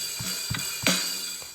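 A short 4/4 drum pattern of kick, snare and hi-hat, a few sparse hits over a steady electronic hiss, quiet and without talk.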